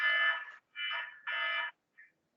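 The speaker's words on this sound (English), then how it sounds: "Fire alarm." A fire alarm sounds indoors in a lecture room, three loud electronic buzzing blasts separated by brief gaps, then a short fainter fourth burst.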